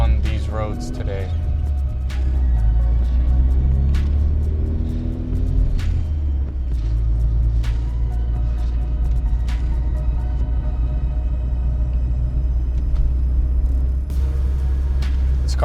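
A Volvo 240 classic car cruising at night, its steady low engine and road rumble continuous and close throughout, with occasional clicks and brief bits of voice or music over the drone.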